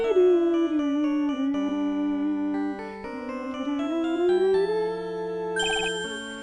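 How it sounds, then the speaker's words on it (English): A phone ringtone plays through a game soundtrack in a courtroom visual novel, a steady melodic electronic tune with a brighter chiming burst near the end, moderately loud and without any speech. "Oops. Sorry, that's my phone."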